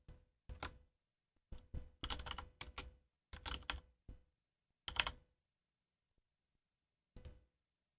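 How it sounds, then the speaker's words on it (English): Someone types quickly on a computer keyboard, entering titles and band names in short bursts of close, soft key clicks separated by brief pauses, quiet with no talking. "I'm just very quickly typing in"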